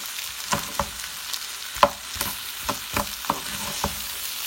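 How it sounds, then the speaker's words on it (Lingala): Rice frying in a pan for Congolese-style fried rice (loso ya kokalinga), a steady soft sizzle broken by repeated scraping clicks of a spoon stirring the grains, close up with no talking. "Loso na ngai oyo nazokalinga."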